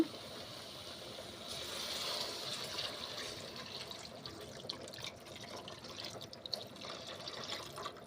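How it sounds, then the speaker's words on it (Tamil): Steady water pouring from a small vessel into a pot of brinjal kara kuzhambu, a continuous liquid splash that runs for several seconds at moderate volume with no voices. "நான் வந்து இதெல்லாம் ஒரு சொம்பு தண்ணி ஊற்றிருக்கேன்"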